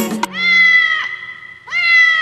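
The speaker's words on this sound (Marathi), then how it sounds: "मांजरी" A cat in a children's rhyme gives two clear, drawn-out meows, the first long and falling and the second rising after a short pause, heard close and loud.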